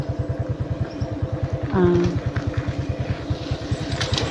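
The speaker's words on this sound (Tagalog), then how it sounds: "Yung motor na nandun dito sa likod namin." A motorcycle engine putters in a steady, rapid pulse from behind on a footbridge, moderately close and continuous, with a brief higher tone partway through and faint voices in the background.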